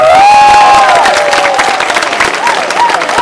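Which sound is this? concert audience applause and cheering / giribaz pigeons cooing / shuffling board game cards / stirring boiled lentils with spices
concert audience applause and cheering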